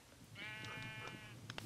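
A sheep bleats in the video game Minecraft, a single faint, wavering bleat at mid distance, followed by a few soft clicks, with no talking.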